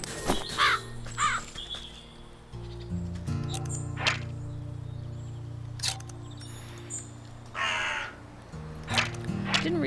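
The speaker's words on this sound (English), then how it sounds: "Crow, adversary to the farmer, ally to the witch." A crow in the witchcraft game Wytchwood caws several times in short bursts over a low sustained musical drone, with a few soft clicks in between.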